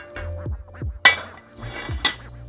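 A metal lid set onto a pot of simmering lentil soup, giving two bright ringing clanks about a second apart over low kitchen rumble.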